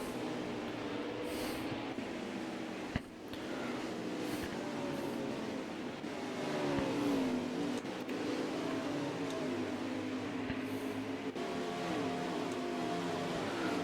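Race cars at Watkins Glen roar through the bus stop chicane, a continuous engine drone with shifting pitch and one sharp thump amid the steady rumble.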